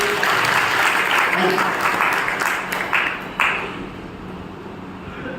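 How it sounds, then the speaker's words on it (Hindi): Audience applause at a Brahma Kumaris health session, a burst of many hands clapping that starts full and gradually thins and fades, with a few scattered claps near the end. "जोर से तालियां बजाइए।"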